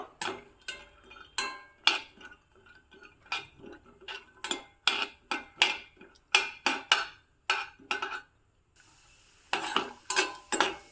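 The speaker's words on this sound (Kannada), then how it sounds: "ಈಗ ಇವೆರಡನ್ನು ಚೆನ್ನಾಗಿ ತುಪ್ಪದಲ್ಲಿ ಹುರಿದು ತೆಗೆದಿಟ್ಕೋಬೇಕು" Cashews and peanuts roasting in ghee, with a spoon scraping and stirring through them in a steady run of short, bright clicks and clatters. A faint sizzle sits underneath, close and fairly quiet, with no voices.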